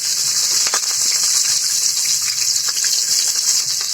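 Onion, garlic and green chili frying in hot oil with bay leaf, a dense continuous hiss of sizzling at fairly high volume, close up, with faint spatula scrapes and no talking.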